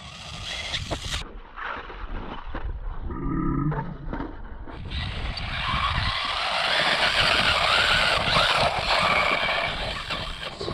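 Budget JJRC RC buggy on small buggy wheels driving, its electric motor whining and rising to a loud, sustained high-pitched roar with tire scuffing, close by.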